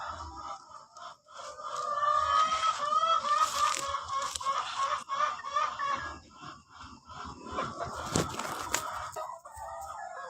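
Laying hens clucking and cackling continuously, fairly close, with some louder squawks and bursts of rustling near the end; no talking.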